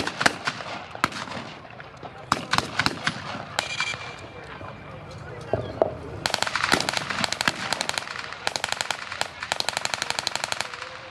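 Machine gun fire at a D-Day field battle reenactment in Muskegon, loud rapid bursts of rattling shots mixed with single gunshots, repeating in long volleys toward the end, with voices faintly in the background.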